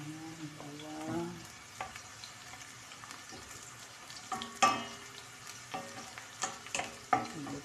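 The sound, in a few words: garlic frying in a pan for chicken adobo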